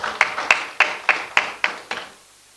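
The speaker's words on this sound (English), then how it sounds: "Please a round of applause." A few hands clap at an official gathering during President Buhari's working visit to Imo State, with about seven sharp, evenly spaced claps that fade out over two seconds and no talk.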